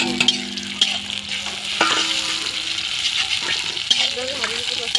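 Meat tipped into a hot karahi sizzles and fries loudly and steadily up close, with stirring scrapes and a few faint voices in the background.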